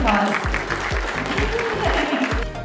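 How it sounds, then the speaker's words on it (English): Audience applause at a San Juan College Ms. Indigenous pageant, a dense wash of clapping mixed with crowd noise and low rhythmic thumps. "Give her a round of applause."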